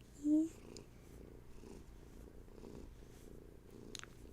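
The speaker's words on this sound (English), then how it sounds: "Some big purrs, huh?" A cat purrs softly and steadily up close, a low continuous rumble with a brief chirp near the start.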